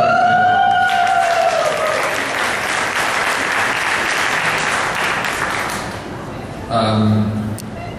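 Audience applause fills a Republic Day event hall in Los Angeles, a dense sustained clapping that runs for several seconds alongside a fading tonal ring, then eases before a brief louder burst near the end.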